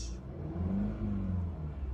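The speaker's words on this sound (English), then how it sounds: "rev the engine a little bit so you can hear what it sounds like" A 2021 Volkswagen Golf GTI engine revs up and holds a steady, rumbling drone across two seconds, moderately loud and close, with no voices.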